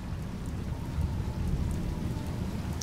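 Steady, dense rain hiss from the Dishonored video game fills the scene, an even wash of falling rain with a low rumbling undertone and no voices.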